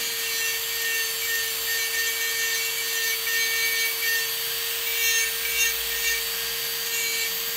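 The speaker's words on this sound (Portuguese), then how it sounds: "Eu vou com a minha broca no ângulo de 45 graus fazendo esse contorno." Diamond-coated electric nail drill bit held at a 45-degree angle, working around the cuticle of a natural nail; a steady high-pitched motor whine with continuous light grinding, close and constant throughout, no talking.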